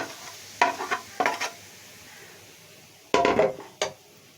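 Melted jaggery being stirred into crumbled roti churi in a pot, with a few short scraping and stirring bursts, close and moderately loud, separated by quiet pauses.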